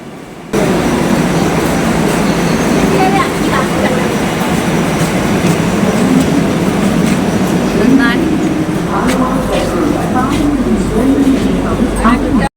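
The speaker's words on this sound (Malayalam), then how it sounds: "ഇതാ വന്നേ നമ്മുടെ മെട്രോ ട്രെയിൻ എത്തിയേ." A Kochi Metro train pulls into the station with a steady, loud rumbling roar and faint squeals, while people talk in the background as it arrives at the platform.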